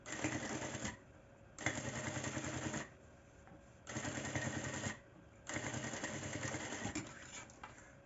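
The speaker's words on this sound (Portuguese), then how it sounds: "vou passar uma costura com retrocesso no começo e no final, com o pé de máquina" A sewing machine stitches bias binding onto fabric for a small toiletry bag, running in four close, steady whirring bursts separated by short quiet gaps, with backstitching at the start and end of the seam.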